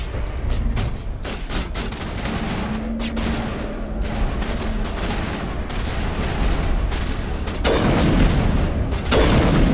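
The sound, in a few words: gunfire from video game Mass Effect Legendary Edition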